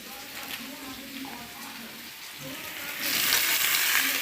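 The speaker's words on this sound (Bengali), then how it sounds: "আলু আর কুমড়োটা ভাজা হয়ে গেছে, এবার এর মধ্যে আমি পুঁই শাকটা দিয়ে দেবো।" Potato and pumpkin pieces with Malabar spinach fry in a pan, a soft, steady sizzle that swells into a brighter, louder hiss partway through as the greens go in.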